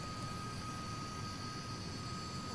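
De Havilland Comet jet engines at takeoff power in Flight Simulator X, a steady, broad roar with a thin high whine running throughout, moderately quiet and unbroken.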